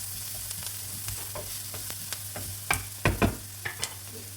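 Onions with a little salt cook in a pan as they are stirred toward caramelizing, a low sizzle broken by several sharp spoon scrapes and knocks against the pan, clustered near the end, with no voices.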